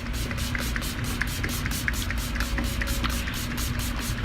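A Pixi Glow Mist setting spray is pumped onto a face in a series of quick, evenly spaced spritzes over a steady hiss, close and fairly loud with no talking.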